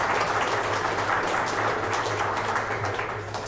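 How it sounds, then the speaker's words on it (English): Sustained applause from an audience at an indie game developer meetup, a dense even patter of clapping that holds steady and slightly fades at the end. "let's give Juan a round of applause"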